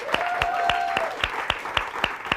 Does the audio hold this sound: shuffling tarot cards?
no